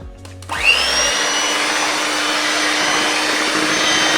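An electric beater starts up after a brief pause and runs steadily at a loud, even whine while mixing coffee cake batter of oil and other ingredients, with no talking.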